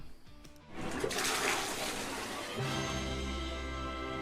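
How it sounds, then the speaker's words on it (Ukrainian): A toilet flushes with a sudden rushing surge of water, then settles into a steady refilling hiss and gurgle, close and loud, with no talk. "Кстати, как вы думаете, хорошо работает слив?"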